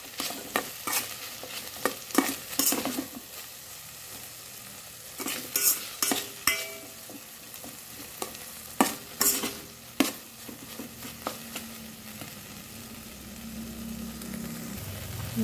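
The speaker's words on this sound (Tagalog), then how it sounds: "Halo-halo na lang po natin ito." Vegetables frying in a pan are stirred with a utensil, giving repeated scraping clatters in irregular bursts over a steady close sizzle, with no talk.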